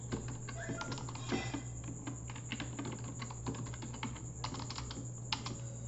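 Someone types an address into page-layout software on a computer keyboard. The keystrokes are quiet and irregular, with small flurries and single taps over a steady low hum.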